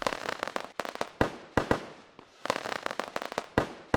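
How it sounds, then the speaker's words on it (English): Cartoon fireworks burst into sparkly sprays, a rapid run of sharp crackling pops and fizzing bursts arriving in quick clusters with brief gaps, moderately loud with no speech. "A spray of sparkly fireworks burst into the sky."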